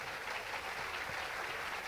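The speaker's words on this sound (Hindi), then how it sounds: "एक बार इन सभी कलाकारों के लिए ज़ोरदार तालियां हो जाए" A large crowd claps steadily and continuously, a dense, even wash of applause with no pauses.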